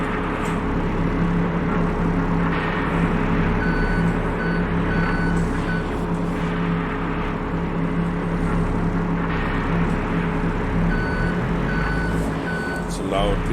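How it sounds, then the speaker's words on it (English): Spinnery machinery in the video game No Man's Land gives a loud continuous mechanical rumble with a droning hum and faint intermittent beeping tones, steady throughout without pauses. "Loud piece of machinery in there."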